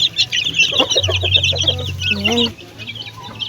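Pet chicks and hens cluck and peep close by during feeding time on a small backyard flock, with a low steady hum underneath and a person speaking briefly amid the bird sounds.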